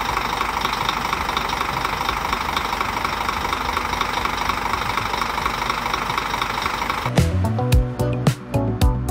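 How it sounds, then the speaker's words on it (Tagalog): A Scania 360-horsepower Euro 5 engine in a GV Florida sleeper bus idles with a steady, loud, close rumble, then a few irregular knocks and clunks break in near the end. "And powered din ito syempre ng Scania engine with 360 horsepower and Euro 5 compliance."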